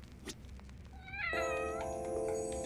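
Cats meow in the video game Judgment, a few rising cries followed by a sustained, tonal meow over quiet background ambience.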